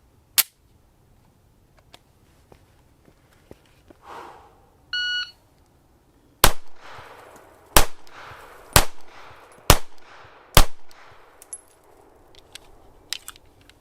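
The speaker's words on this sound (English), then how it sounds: "Up next, Smith & Wesson's Shield plus 9mm. Same 5 rounds." A beep sounds, then five sharp, loud pistol shots from a Smith & Wesson Shield Plus 9mm crack at an uneven, fairly quick pace at 5 yards, each with a short ringing decay in otherwise quiet surroundings.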